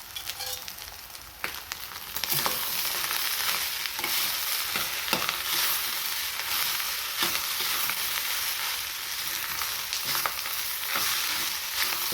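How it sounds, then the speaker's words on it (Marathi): Rice is stirred and fried in a hot pan for egg fried rice, with a continuous sizzle under repeated scraping strokes of a spoon against the pan, close and fairly loud. "सर्व राईस मी यामध्ये मिक्स करून घेते पुन्हा."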